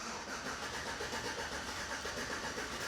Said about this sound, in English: We got our master tech Josh in there, and he's going to crank it over.